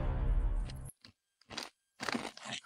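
Kettle cooked hot chili lime chips crunch loudly in a close mouth, a few sharp bursts of biting and chewing separated by short silences, following a brief low rustle at the start.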